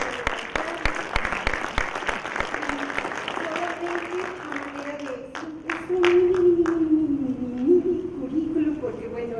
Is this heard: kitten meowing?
no